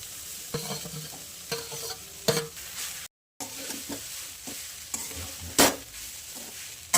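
Finely minced soybean chunks frying with spices in a pan for soybean keema parathas, stirred with repeated scraping strokes over a steady low sizzle, close and fairly quiet, with a brief silent gap midway.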